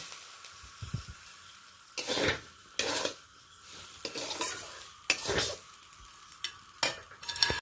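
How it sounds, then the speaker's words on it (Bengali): Dry-roasted semolina is stirred into vegetables in a frying pan, with a faint sizzle broken by several bursts of spatula scraping and scraping strokes against the pan, without speech. "অল্প অল্পভাবে সুজি দিতে থাকবো আর একটু একটু করে নেড়ে নেবো এইভাবে"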